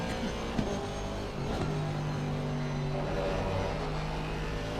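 Race car engine in Assetto Corsa Competizione at the Hungary circuit, a steady, close droning note that rises slightly in pitch as it pulls, with no talking over it.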